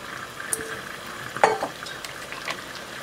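Vegetables braising in a pan with a couple of spoonfuls of water and oil give a steady, soft sizzle, broken by a few light clinks and stirring scrapes near the middle, with no voices.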